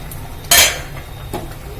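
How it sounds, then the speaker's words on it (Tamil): A metal lid goes onto a cooking pot of simmering manathakkaali greens with one sharp clank, followed a moment later by a lighter clink, against a low background hum. "இப்போ நம்ம இந்த கீரையை கொஞ்ச நேரம் மூடி வைக்கலாம்"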